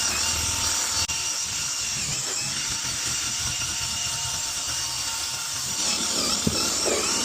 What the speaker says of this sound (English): What the hoover struggled with, the drill brush is making light work of it.